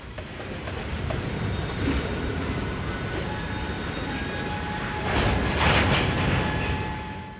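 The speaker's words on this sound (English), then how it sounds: "The train is in the process of being made up" Freight rail cars rumble and grind steadily nearby, with metallic squeals and a louder clanking stretch toward the end as the train is shunted and made up.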